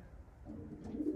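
Pigeons coo softly and close by in a quiet loft-like setting, a few low throaty calls rising toward the end with no voices.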